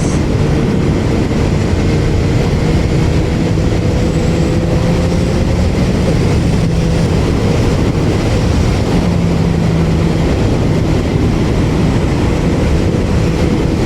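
A Yamaha motorcycle with Y-AMT transmission rides in manual mode, a loud, steady engine drone with strong wind rush and gentle shifts in engine pitch as gears change, with no talking.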